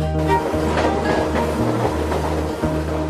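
A train runs along railway tracks in Brazil, a steady loud rumble with rhythmic clacks of wheels passing over rail joints, close and continuous.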